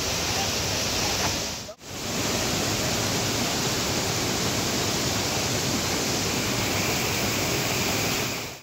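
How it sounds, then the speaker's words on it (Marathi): Palasdari waterfall near Karjat roars as a dense, continuous wash of falling water, loud and close, with one brief dip in the middle before the torrent resumes unchanged. "हा आहे वॉटरफॉल ॲक्च्युली."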